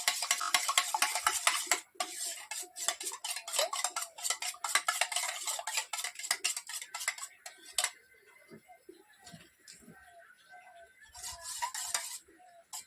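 Egg scrambled in oil in a kadai (wok) for egg tadka, heard as quick rapid scraping and clinking of a utensil against the pan, loud at first, then sparser taps over a faint sizzle.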